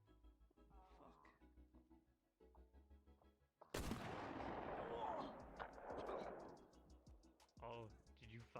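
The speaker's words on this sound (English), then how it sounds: "Oh, did you fire a gun?" A single heavy gunshot in a video game bursts out after a stretch of talking and leaves a long rumbling tail, with voices continuing underneath and afterward.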